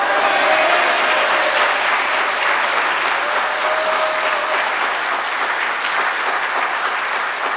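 A church congregation gives loud, sustained applause, a full, dense roar of clapping that stays strong and steady throughout with only a slight fade near the end.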